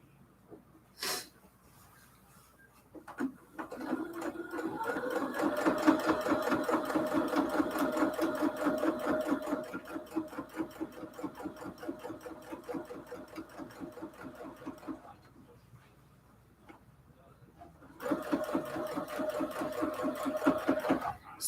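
Sewing machine stitching a cathedral window quilt pillow case, running in two long steady bursts of rapid, even needle rhythm with a pause between, close and clear with no talk.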